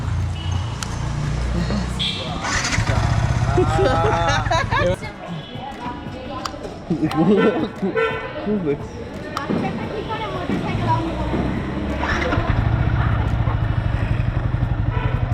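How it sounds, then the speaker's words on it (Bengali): A Yamaha R15 V4 motorcycle engine starts and settles into a steady low idle close by, with talk and children's voices over it through the middle. "বাইক স্টার্ট হয়ে গেছে"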